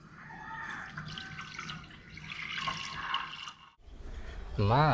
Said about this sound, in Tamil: தண்ணி ஊற்றணும், தேவையான தண்ணி.